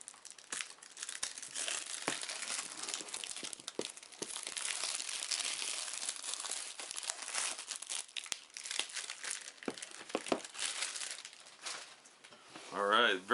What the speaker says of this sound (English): So let's tear inside and see what we got here.